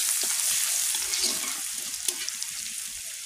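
Chopped garlic fries in hot oil with dried red chilli, bay leaf and cumin, giving a steady close sizzling hiss with small crackles and a few light stirring knocks, and no voices.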